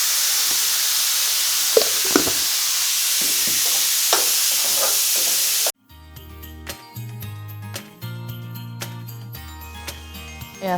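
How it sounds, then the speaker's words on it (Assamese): Potatoes fry in hot oil with a loud, steady sizzle and a few clinks of stirring for about half the time, then the sound cuts abruptly to background music. "এতিয়া মই আলুখিনি ফ্ৰাই কৰি ল'ম"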